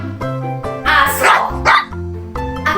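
A dog gives a few short barks in a cluster, mixed over steady, tonal background music, moderately loud and close, with no talking.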